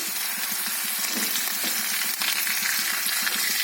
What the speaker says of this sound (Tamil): இப்போது இந்த மிளகாவும் கறிப்பிள்ள தலையும் போடுறோம்